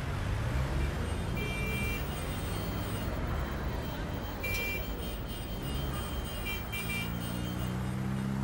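Road traffic rumbles steadily, a dense continuous engine drone with passing vehicles and a few faint high tones, moderately loud throughout, with people talking over it.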